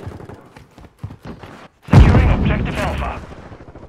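An MP5 fires in Call of Duty MWII beta multiplayer. A short quiet stretch with a voice is followed by a loud burst of shots that rings out and fades.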